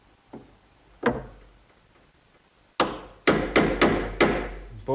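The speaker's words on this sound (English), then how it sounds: "just using a chisel, I'll remove the right amount of material." Sharp chisel strikes chopping into hard oak to cut a hinge mortise, with a few isolated knocks early on and then a quick run of five loud, close blows with ringing decay.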